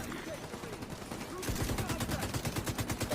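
Sustained automatic gunfire from a firefight with hostiles aboard a ferry in The Division 2, starting as scattered shots under game sounds and then becoming dense, rhythmic bursts that dominate the mix.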